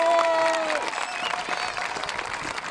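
A crowd applauds at a juggler's street show, a dense steady patter of clapping that fades a little after a brief opening swell, with a few voices and faint tones mixed in.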